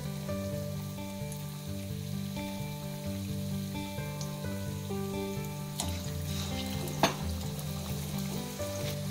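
Bread potato rolls frying in hot oil give a steady close sizzle with scattered crackles and one sharp pop near the end, with no talk and a low background hum.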